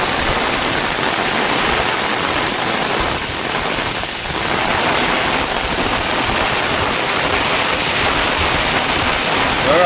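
A loud, continuous downpour of heavy rain roars without pause across the hillside, dipping only slightly for a moment before returning to full strength.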